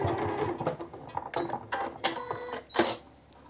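A sewing machine stitching the hem of a silk blouse, close by, with short bursts of mechanical whirring and clicking that start and stop unevenly.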